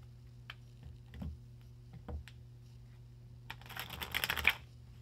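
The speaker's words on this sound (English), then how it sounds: "I was told to shuffle 4 times." Tarot cards are shuffled in a quiet room, with a few soft isolated taps and clicks first, then a quick riffling flutter of cards building near the end, close and faint.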